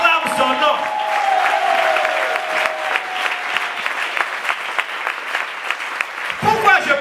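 A church congregation at a French-language sermon breaks into loud, sustained applause, dense clapping filling the space near and far, tapering briefly before swelling again at the end.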